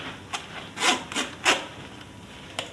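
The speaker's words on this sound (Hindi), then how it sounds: "अच्छी तरह पुदीने को भी मैंने स्ट्रेन कर लेना है इस तरह," Ground mint being pressed and rubbed through a strainer to extract its juice, several short scraping strokes up close, separated by quiet gaps, with no voices.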